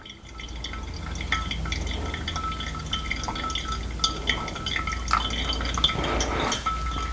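Water poured from a kettle into a V60 pour-over coffee brewer holding Peruvian coffee, a steady close trickle and splash with small drips, continuous and moderately quiet over a low background hum.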